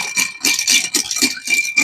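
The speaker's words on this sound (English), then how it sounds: "Give that a quick stir." Ice cubes rattle and clink against a cocktail glass of Blanton's whiskey in quick bursts as a spoon stirs, with brief pauses between rhythmic swirls, close and fairly loud.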